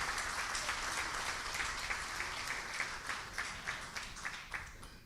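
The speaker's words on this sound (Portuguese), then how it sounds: "vocês baterem palmas a quem deu o seu contributo" Steady, fairly faint audience applause at a Portuguese book launch event, a continuous even patter of many hands clapping for the whole stretch.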